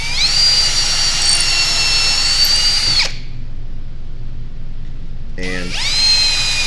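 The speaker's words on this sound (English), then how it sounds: "So now we can drill in" A power drill drilling into wood for a birdhouse whines steadily for about three seconds, stops, then spins up again near the end, loud and close with no talking.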